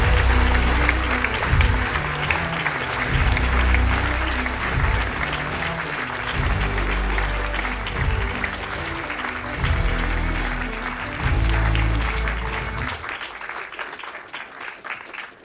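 Audience applauding at the British Skydiving AGM and awards ceremony as a 2023 award winner is called to the stage: dense, sustained clapping across a large room with music underneath, fading near the end.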